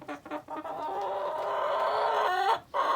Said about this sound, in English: These chickens are just a joy to watch.